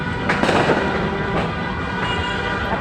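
New Year firecrackers and fireworks go off nearby in a handful of loud, sharp bangs over a continuous crackling, smoky din, with no voices.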